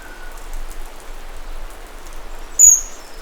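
Monsoon rain patters steadily on surfaces at a kingfisher nesting site, a soft continuous wash with one brief sharp chirp near the end.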